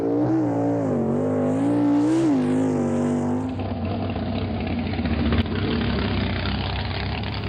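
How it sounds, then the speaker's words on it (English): A Chevy Nova drag racing car called Sir Tiger revs its engine up and down with a loud, tonal roar, then settles into a rough, lumpy idle with a steady low rumble. "let's check out Paul Seisler and his Sir Tiger Nova"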